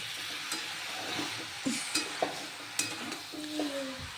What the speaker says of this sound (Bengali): এইভাবে ভালোভাবে নাড়াচাড়া করতে হবে